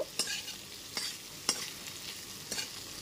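Tomato pieces stirred in a pan over a medium gas flame for an okra and potato curry: a steady sizzle broken by four crisp spatula scrapes spaced about half a second to a second apart, close and clear, with no talking.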